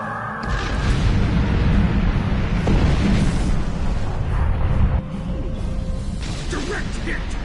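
Weapon hits explode against a starship in the Star Trek Online space combat game: a sustained roaring, rumbling blast with bursts layered over loud, continuous battle noise throughout.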